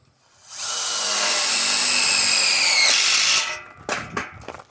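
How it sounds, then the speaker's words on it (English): Power drill driving a screw into a metal tubing carport bow, one loud steady whine lasting about three seconds close by, then a few light knocks as it stops. "all he's going to do now is put 2 screws in the top side"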